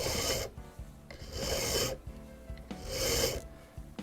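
A clock part for an 1837 Japy Freres mantle clock, held in a pin vise, is hand-filed with a 45-degree bevel: three slow, rasping strokes with brief pauses between them, close and clear with no talking.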